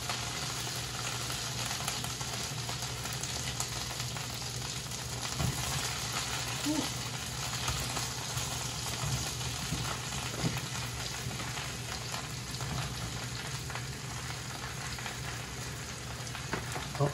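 Mushrooms fry in a pan with butter and garlic, giving a steady, close sizzle that hisses evenly the whole time with no break.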